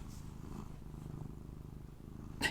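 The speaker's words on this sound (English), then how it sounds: "You hear the purr?" A soft, steady cat purr rumbles low and continuous, close by, with a brief rustle or handling noise near the end.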